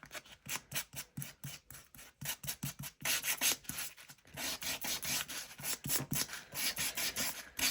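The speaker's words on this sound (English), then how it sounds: "give it a good old sand. You know me and the sander." A sander working over a vintage passport-style junk journal, heard as close, rapid rhythmic scraping strokes in quick bursts, then a denser continuous stretch, loud and alone without talk.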